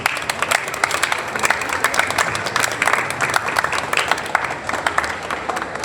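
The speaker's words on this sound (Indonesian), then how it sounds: "kita kasih tepuk tangan dulu untuk petugas hari ini" Steady applause from a large group at a Monday school flag ceremony, dense clapping throughout at even loudness, with faint crowd murmur underneath.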